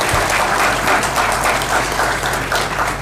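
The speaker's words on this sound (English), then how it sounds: "I want that we should also give a big clap to them" Sustained applause from a symposium audience honoring foreign delegates at a regional justice conference, a dense steady roar of many hands clapping throughout at even loudness.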